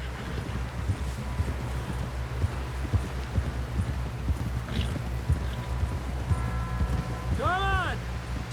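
Horse hooves clip-clopping at a steady walking rhythm in the video game Red Dead Redemption 2 during a snowstorm, a repeated low thudding beat under wind with a short tonal sound near the end.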